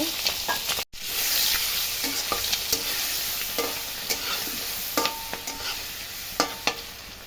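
Eggs frying in oil in a pan while being stirred for egg bhuna: a loud, continuous sizzle with repeated scraping spatula strokes at an uneven pace and one brief silent break near the start.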